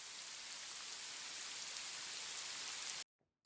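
Steady, hissing rain pouring down evenly for three seconds, then a sudden stop into near silence with a brief noise at the end.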